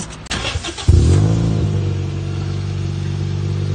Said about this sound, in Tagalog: Sir, pwede marinig yung makina?